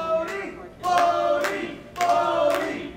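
Crowd at a Level 1: Absolute Zero wrestling event clapping to rally Bodhi Young Prodigy during his match with Lazarus; two rising bursts of clapping and cheering, moderately loud, with no talk.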